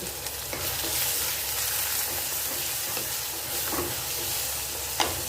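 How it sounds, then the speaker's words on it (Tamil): Mango kootu ingredients sautéing and sizzling in a pan, with a steady frying hiss and occasional stirring scrapes, close and continuous with no talk. "இது நல்லா வதங்கி வரட்டும்"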